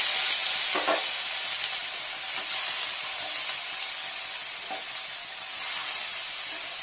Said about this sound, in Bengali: এই তেলটার উপর পনিরগুলোকে দিয়ে নেব।